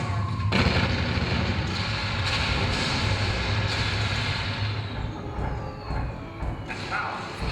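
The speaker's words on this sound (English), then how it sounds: "we see a ring of bursting anti-aircraft shells all around the city" Anti-aircraft shells burst around a city during a night air raid, heard as a museum sound presentation: a dense, continuous roar of booming detonations with sharp cracks, loud and sustained throughout.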